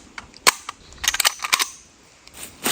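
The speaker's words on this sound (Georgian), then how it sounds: "ეს იქნება ჩემი პირველი გასროლა ამ იარაღიდან." A newly bought gun fired in a forest gives several sharp, loud cracks spread irregularly across a few seconds. Each report is short and close, and faint ambience fills the gaps.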